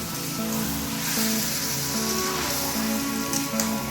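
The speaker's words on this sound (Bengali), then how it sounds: "এবার চিকেনটাকে ভেজে নিচ্ছি।" Marinated chicken fries in a pan, giving a steady, dense sizzle with crackling spatters, close and continuous, with a faint hum underneath.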